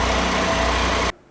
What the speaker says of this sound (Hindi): When our engine is at idle, it typically actually is spinning around at 1000 to 1500 RPM.